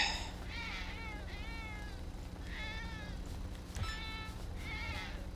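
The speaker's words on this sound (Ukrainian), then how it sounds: "Хто тут котик гарний?" A cat meows repeatedly, several drawn-out, wavering meows spaced a second or so apart, fairly quiet against a low background hum.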